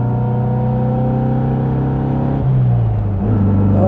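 A performance-tuned, restored 1957 Porsche 356 Speedster drives along a mountain road, its engine a loud, steady droning rumble that shifts pitch about two and a half seconds in as it keeps pulling.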